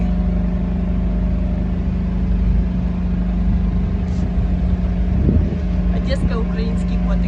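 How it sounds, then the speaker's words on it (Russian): A generator running on a city street in central Odesa, a loud, steady mechanical hum with a constant low drone throughout, with faint light clatter toward the end. "сейчас мне будет мешать генератор снимать съемку"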